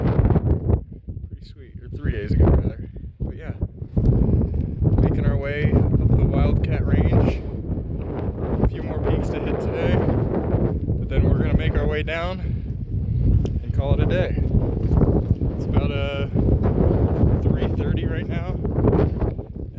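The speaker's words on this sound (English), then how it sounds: "windy at the top of these mountains" Strong wind buffets the microphone on a mountain top in the White Mountains, with a heavy low rumble and gusts running under someone talking throughout.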